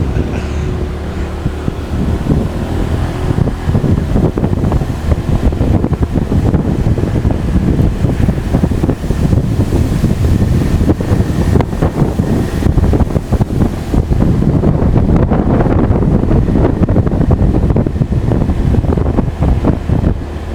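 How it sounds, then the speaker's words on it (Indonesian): Steady, loud wind buffets the microphone on a mountain road near Sembungan, Wonosobo, as rain approaches, a constant rumbling roar that swells slightly toward the end with no talk. "Udah mulai angin-angin nih, mau hujan teman-teman ya."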